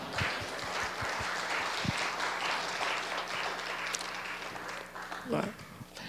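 A church congregation breaks into sustained applause during a sermon, a dense even wash of clapping that carries steadily throughout, with a few sharper claps and voices rising near the end.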